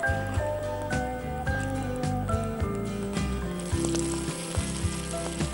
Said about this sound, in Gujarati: ઓકે, હવે આમાં એડ તડકો એડ કરી દેશું.